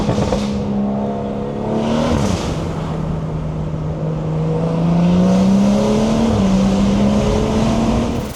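Car with a BMW B58 engine revving loudly and steadily, its drone rising and falling in pitch through repeated throttle blips, heard close from inside the car.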